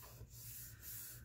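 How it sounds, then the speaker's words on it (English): A ruler rubbed gently along a paper crease on a journal cover makes soft, close scraping strokes, about three brief rubs over a low background hum. "So we're just going to take our ruler and just rub gently"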